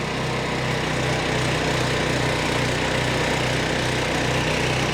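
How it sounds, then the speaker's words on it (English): A Weibang Velocity 68 tracked flail mower running with its flails at working speed, a loud, steady engine drone with a rhythmic mechanical pulse and dense whirring, close and continuous. "Now the flails are running at the correct speed"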